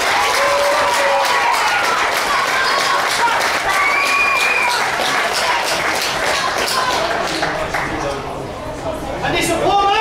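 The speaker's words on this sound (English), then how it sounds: "Let's give Scott a massive clap." Crowd applause at a kickboxing event as a fighter named Scott is introduced, steady loud clapping with cheering and chatter, tapering slightly near the end.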